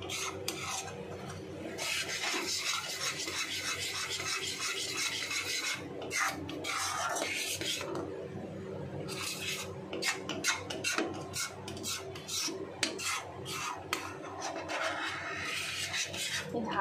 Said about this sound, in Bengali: এবার দুধটাকে ভালো একদম এটা ভালোভাবে নাড়িয়ে নেব